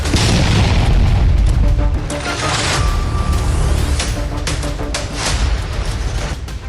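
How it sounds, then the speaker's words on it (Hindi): A BrahMos supersonic cruise missile combat launch over the Bay of Bengal produces a loud, sustained deep roaring boom with a rumbling low end that eases slightly but continues throughout. "ब्रह्मोस सुपरसोनिक क्रूज मिसाइल का कॉम्बैट लॉन्च कर दुश्मनों को चेताया है"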